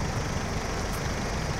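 A stuck tractor's engine straining, a loud continuous low rumble with steady vibration and a brief higher whine partway through.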